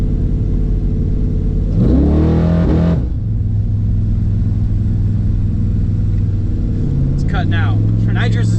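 A Caprice station wagon fitted with nitrous accelerates hard in second gear, a loud steady engine roar that surges briefly, with people talking near the end.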